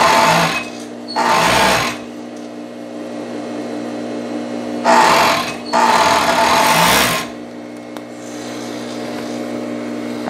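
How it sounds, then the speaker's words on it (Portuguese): Sewing machine stitching the side seam of a knit jumpsuit, running in two bursts of about a second each and then a longer stretch of about two seconds, with faint room noise between the bursts and no talking. "E eu vou costurar aqui a outra lateral"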